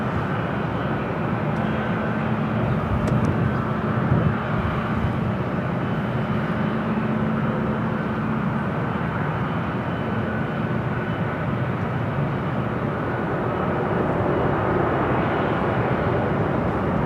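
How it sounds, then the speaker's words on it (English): A Qantas Airbus A380 arrives at LAX, heard as a steady, loud, broadband roar of jet engines that holds evenly throughout with no talk over it. "Let's head into the A380 Super. That is the next arrival"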